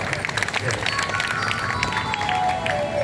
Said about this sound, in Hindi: बजा दो मेरे जोरदार ताली